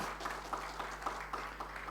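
Church congregation applauding at a Sunday worship service, a faint, steady patter of many hands clapping with soft rhythmic peaks over a low background hum.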